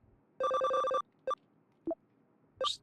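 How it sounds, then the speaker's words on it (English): A phone goes off with a burst of rapid electronic trill tones, followed by a few short separate beeps, sounding clearly in a quiet room. "I just heard my phone go off."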